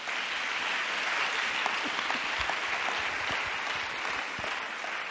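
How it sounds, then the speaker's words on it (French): A church congregation claps for Jesus in a steady, dense round of applause. It sounds somewhat distant and moderately quiet, with no clear talk over it. "Let's clap for Jesus."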